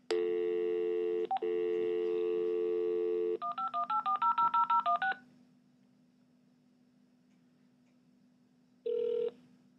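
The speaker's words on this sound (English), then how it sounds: "I'm just going to dial that number from my landline telephone." A landline telephone gives a steady dial tone, then a quick run of about a dozen touch-tone keypad beeps, followed by quiet and one more short tone burst near the end, clear and close with no voices.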